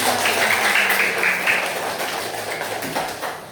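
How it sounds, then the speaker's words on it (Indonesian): Children in a classroom clap together in a brief burst of applause, fairly close and steady at first, then thinning out and fading over a few seconds. "tepuk tangan dulu dong buat yang benar"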